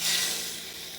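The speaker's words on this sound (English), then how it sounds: "Getting a nice sizzle on that." Chicken pieces sizzling on a hot Ninja Woodfire grill sprayed with canola oil, a steady close hissing fizz that fades slightly over about a second, with no talk.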